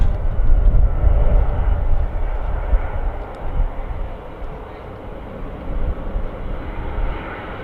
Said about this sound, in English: Air Portugal Embraer touching down.